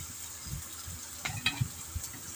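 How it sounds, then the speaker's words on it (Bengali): Chopped onion and white cumin seeds frying in hot oil left from frying catla fish, a soft steady sizzle with a few louder crackles and stirring bumps. "এবার ওই তেলেই দিয়ে দিলাম একটু সাদা জিরে দিয়ে দিলাম পেঁয়াজ কুচো"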